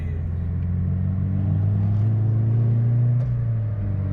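Toyota GT86 engine rumbling steadily as it accelerates, with a couple of faint, sharp exhaust pops near the end over a loud, continuous low drone.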